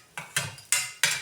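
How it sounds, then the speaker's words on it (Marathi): A spoon scrapes and clinks in a pan four times in a steady rhythm, up close, while roasted lima bean (pavta) seeds are stirred into masala. No one speaks. "व्यवस्थित मिक्स करून घेऊया. परतून घ्यायचं थोडं मसाल्यामध्ये."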